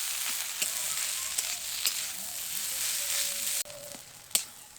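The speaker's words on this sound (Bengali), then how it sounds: "এবার সবগুলোকে ভালো করে কষিয়ে নেব।" Potato filling with salt, turmeric and roasted ground spices sizzles steadily in a kadai, a continuous close frying hiss broken by a few sharp spatula scrapes and taps.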